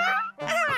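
A small cartoon dog lets out two quick, high, whiny yaps in close succession, loud and close up with no other sound around them.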